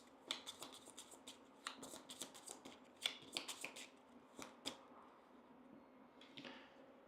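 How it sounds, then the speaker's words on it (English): A deck of cards for the Astro Knights board game is shuffled by hand in quick riffles and taps, close and crisp, in irregular bursts with no talking. "So I guess I should shuffle the other ones."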